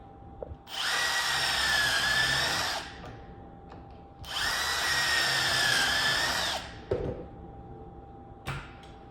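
Two sustained bursts of a power drill driving screws into material for a kitchen island during a house renovation, each lasting about two seconds with a short pause between, close and loud, followed by a few light knocks.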